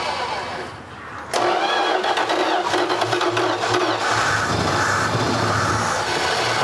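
A 1986 Dodge Ram engine left sitting for 15 years cranks and catches, then runs roughly and loudly for several seconds, with people talking over it.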